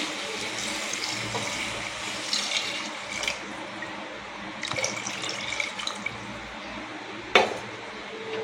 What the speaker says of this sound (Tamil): நான் வேக வச்ச மட்டன் தண்ணியை சேர்த்து மொத்தம் 2 டம்ளர் நான் வந்து எடுத்துருக்கேன்